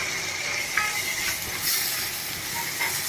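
A small chopped tomato drops into golden fried onions in a hot pan, and a steady sizzling hiss with soft crackles carries on throughout, close and fairly loud, with no voices.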